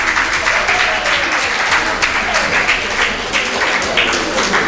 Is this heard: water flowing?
no